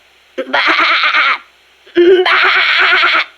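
A voice imitating a sheep: two drawn-out, wavering bleats, close and loud, with a short pause between them.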